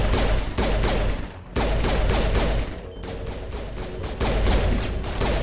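Heavy gunfire and rocket blasts in a Mass Effect sci-fi combat battle, with dense rapid bursts and booming explosions continuing almost without pause, loud and close, briefly dipping before resuming.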